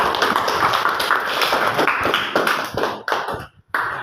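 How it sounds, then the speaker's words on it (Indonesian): Classroom applause for a group of students: many hands clap in a dense, steady patter, thinning out with a short pause near the end before a final burst. "Tepuk tangan buat kelompok ini."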